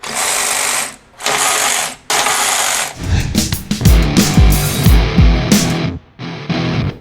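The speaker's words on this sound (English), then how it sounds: "We finally get our hands on DeWalt's 12V XTREME cordless ratchets." DeWalt 12V XTREME cordless ratchet (3/8 and 1/4 inch drive) runs in three loud whirring bursts, then a stretch of clattering, banging impacts, followed by further short motor bursts, with no talking.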